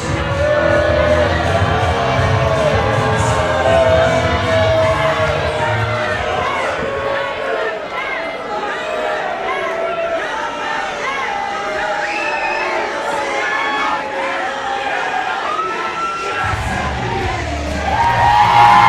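A pro wrestling crowd at a Glory Pro event cheers, whoops and yells loudly and continuously during a ring introduction, a dense roar of many voices with individual shouts rising above it.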